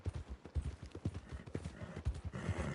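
Horse hooves clip-clop in an uneven walking rhythm on ground in the Red Dead Redemption 2 video game, fairly close and prominent with no talk over them.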